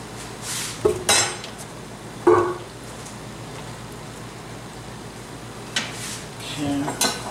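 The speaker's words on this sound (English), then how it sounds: "Now I'm just stirring this in here to get the stuff off the spatula." A spatula scrapes and stirs inside a home-brewing all-in-one can, giving a few sharp metallic clinks and scrapes spread over a low, steady background hum.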